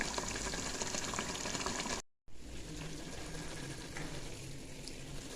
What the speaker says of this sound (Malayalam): അരി ഒന്ന് വേവട്ടെ